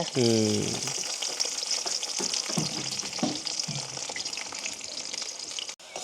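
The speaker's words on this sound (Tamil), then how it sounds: "அடுத்த வந்து நாங்கள் உள்ளியையும் பொறுத்தெடுப்போம் உள்ளி பொரியக்கே ஒரு வாசம் தானே" Garlic frying in hot oil for a village-style okra devil dish: a loud, continuous crackling sizzle running throughout, close up, with a few brief voice-like tones early on.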